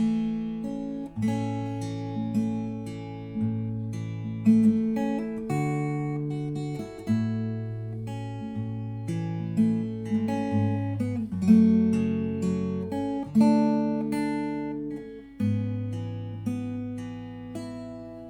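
Fingerstyle acoustic guitar plays a gentle melodic passage from the verse of "Goodness of God", plucked notes ringing over a steady bass line, close and clear with no voices.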